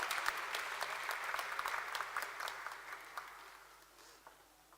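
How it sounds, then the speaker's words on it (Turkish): An audience applauds a folk singer about to perform a Turkish türkü, the clapping dense at first and then gradually thinning and fading toward the end, with no talking. "Alkışlarınızla."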